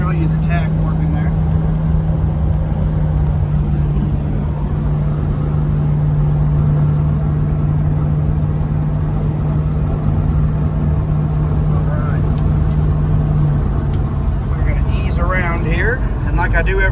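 A 1972 Chevrolet Super Cheyenne truck engine runs steadily throughout as it drives, a continuous low hum with a rising tone near the end, while a person talks over it.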